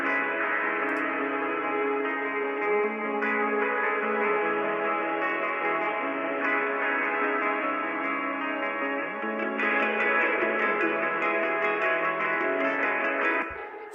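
Layered reverb-drenched electric guitar tracks in a song production, a dense, steady wash of sustained chords and echoing tones at a constant level for the full length, with no voices.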